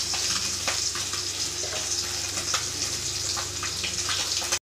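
Ghee added to hot mustard oil in a wok gives a steady, loud, continuous sizzle with faint crackles, cutting off abruptly just before the end.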